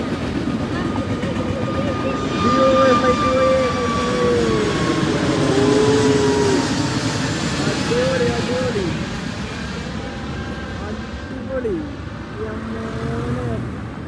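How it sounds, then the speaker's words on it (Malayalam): A train rumbles past with a steady low roar, while people talk and shout over it; the noise swells and fades gradually. "ഇരുന്നിട്ട് ഇങ്ങനെ ട്രെയിൻ പോണത്"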